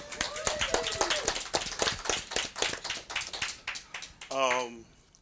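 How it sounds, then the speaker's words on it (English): Audience clapping for seven student athletes at a college commitment event at West Side Leadership Academy, a burst of sharp, close hand claps that thins out, with a voice speaking briefly near the end. "let's just clap it up for these guys"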